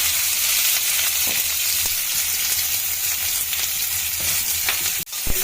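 Chopped onions and green chilies hit hot oil with fennel seeds in a pan, a steady loud close sizzle with faint stirring scrapes and a sharp clatter near the end, no talking.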